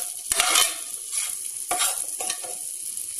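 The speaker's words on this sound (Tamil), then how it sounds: "இப்போது இதை ரெண்டு நிமிஷம் நல்லா கொஞ்சம் வதக்கி எடுத்துக்குவோம்." Ginger and green chillies sautéing in a pan for ven pongal, a steady bright sizzle with a few sharp stirring scrapes, close and alone with no talk.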